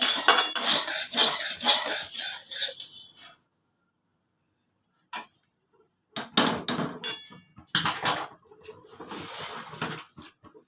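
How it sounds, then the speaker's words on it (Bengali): Fried semolina being scraped and poured from a wok onto a plate: rapid metallic scrapes and clinks, a pause of silence, then more bursts of spatula scraping and tapping against metal. "এবার আমি এটাকে থালায় ঢেলে নিচ্ছি"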